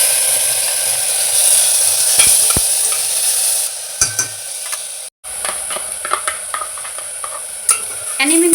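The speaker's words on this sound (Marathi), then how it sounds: "याच्यामध्ये आता कढीपत्ता टाकते. आता मिक्सरमधून मी वाटून घेतलंय. आता तेच त्याच्यामध्ये पण तेलामध्ये फोडणी देते" Curry leaves and a mixer-ground paste hit hot oil for tempering, giving a loud, continuous sizzle with occasional stirring clinks and scrapes, briefly cut off midway before resuming.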